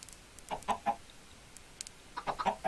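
A video game chicken clucks in short, separate bursts, a few early and a quick cluster near the end, fairly faint with no talking, while stuck in a fence.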